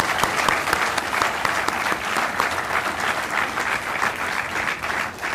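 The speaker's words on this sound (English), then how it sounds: "a big round of applause for all the participants" Loud, sustained audience applause for participants at a university Independence Day event, many hands clapping densely and evenly from start to finish.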